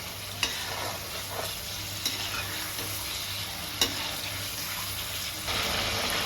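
Masala frying with a splash of water in a pan for prawn malai curry, stirred continuously, giving a loud, steady sizzle and hiss broken by a few sharp utensil knocks.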